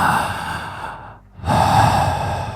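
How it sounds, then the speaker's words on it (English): Eerie breathing, a long drawn breath that fades to near silence at the middle before a second heavy breath swells back in, close and alone without any speech. "the breathing sound seemed to be coming from behind it"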